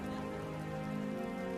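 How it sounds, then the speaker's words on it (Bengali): Cartoon rainfall begins as a dense, steady hiss of drops, even and fairly quiet, with no voices over it. "আস্তে নাস্তে বৃষ্টি শুরু হয়ে গেল যে"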